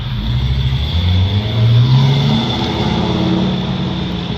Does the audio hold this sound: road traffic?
yes